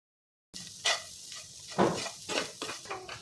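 Spice masala for a healthy breakfast snack being stirred and mixed in a pot, with several distinct scraping and clinking strokes of a spoon against metal, close and fairly loud, no talking.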